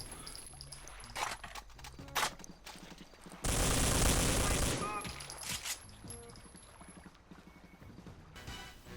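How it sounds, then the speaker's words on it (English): Rapid gunfire in a Doom mod video game, with repeated shots and a dense two-second burst of loud automatic fire in the middle, under a background game music bed. "It is so much fun going into some of the most intense and brutal gunfights around."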